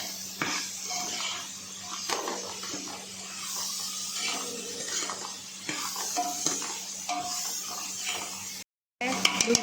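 Onions fry in a pan with salt while browning for masala dosa filling: a steady low sizzle and hiss runs throughout, with occasional stirring scrapes and clinks of a utensil, moderately close, then a brief silence near the end.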